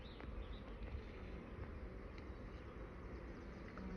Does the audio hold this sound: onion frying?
no